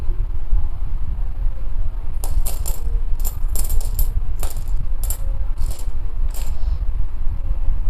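Large one-rupee coins clink and jingle in a series of bright metallic bursts, several clustered handlings over steady low background noise, with no talk.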